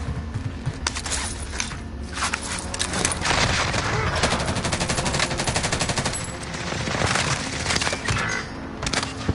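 Rapid video game gunfire, loud and continuous, with machine-gun bursts and cracking shots over dense battle noise, and a voice faintly mixed in.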